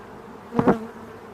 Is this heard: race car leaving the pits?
no